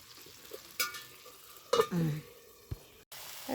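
Fish pieces slide into a spicy curry broth on a wood-fired stove, giving short bursts of sizzling and a few clattering scrapes of a spoon against the pot, with quiet gaps between.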